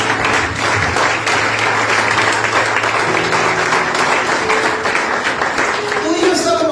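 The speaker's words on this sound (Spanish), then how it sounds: "Eso se merece un aplauso, hermano." Church congregation breaking into sustained applause during a Spanish-language sermon, a dense wash of many hands clapping at steady loudness for several seconds, with voices mixed into the crowd noise.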